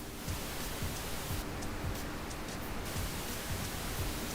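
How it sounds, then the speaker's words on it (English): A steady hiss of broadband noise plays continuously at an even level, like a test signal, with a brief brighter stretch midway. "I have a pink noise here."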